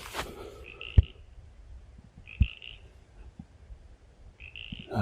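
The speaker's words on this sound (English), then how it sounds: "I hear a frog." Frog or toad croaking near a small pond on rural land, three short faint calls spaced a second or two apart against quiet outdoor background.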